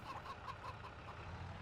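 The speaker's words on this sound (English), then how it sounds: "Just need to remember to feed my chickens, really." Farmyard chickens cluck softly in Farming Simulator on the Haut-Beyleron map, a faint scatter of short clucks under steady game ambience.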